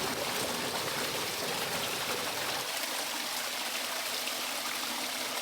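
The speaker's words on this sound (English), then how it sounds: "So this is the overflow that runs straight into our lake." Water pours steadily over a lake overflow into the lake below, a loud, continuous rushing wash close by with no voices.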